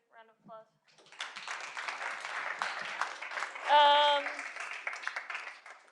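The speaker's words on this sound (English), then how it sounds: "Give him another round of applause." Applause from a tech conference audience after a Go tooling talk, starting after two short vocal sounds and running steadily, with a tonal shout or voice rising above the clapping midway.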